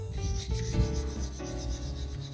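A Felco No.8 pruning shear blade is sharpened with a rasping, rubbing stroke against a sharpening tool, a few close back-and-forth scrapes over about two seconds with no talking.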